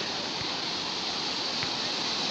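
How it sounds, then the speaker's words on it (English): Ocean waves wash in a steady, broadband rush, continuous and moderately loud, with no voices over them. "Wow, look at the waves"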